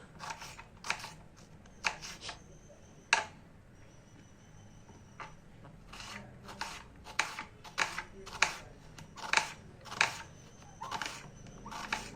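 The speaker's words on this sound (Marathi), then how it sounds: "पटापट पटापट कांदा चिरून घेतो आहे" A knife chops onions quickly on a board for onion bhaji, a series of sharp, close taps in uneven quick bursts over a quiet background, no talking.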